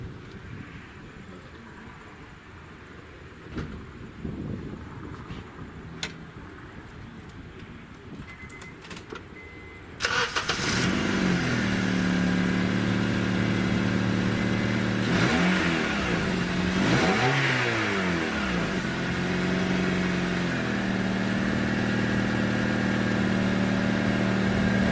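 Engine of a 2006-2011 Honda Civic with a newly installed muffler cranks and fires up about halfway through, then settles into a steady, fairly loud run with a few rising revs, following a quieter stretch of faint workshop ambience.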